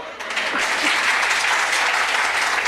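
Audience applause at a devotional Ram katha stage performance, dense steady clapping that swells in and holds loud and continuous throughout.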